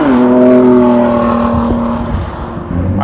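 A Ford GT engine revs hard close by, a loud sustained roar with a steady rising pitch that eases off toward the end, no voices over it.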